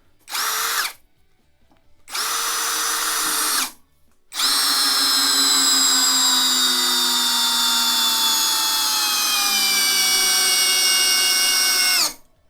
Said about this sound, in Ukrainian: Реально він цей шуруп затягнув, блін, аж руки вириває.